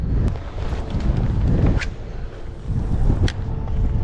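Strong wind buffets the microphone in loud, gusty rumbles, with a few brief clicks and rustles mixed in.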